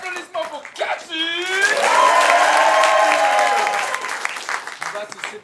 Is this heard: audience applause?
yes